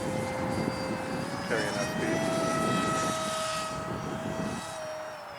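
A 1:26 scale radio-controlled Soviet Buran Space Shuttle propjet model flies overhead with a steady high-pitched motor whine that shifts slightly in pitch, heard under outdoor talking in light wind.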